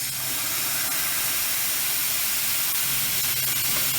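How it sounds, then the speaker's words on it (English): An espresso machine's steam wand purges excess steam and water in a loud, continuous hiss that stays steady and close, with no voices over it. "you need to turn the steam one on for about 10 seconds, let all that excess steam and water come out"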